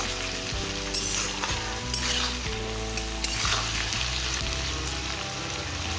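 Potatoes with a pinch of salt cook in a pan for a mixed vegetable dish, giving a soft, even sizzle beneath background music.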